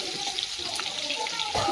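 Chopped onion hitting hot oil already crackling with mustard seeds and curry leaves for a Marathi-style dal tempering, giving a steady close hiss and sizzle that swells briefly near the end.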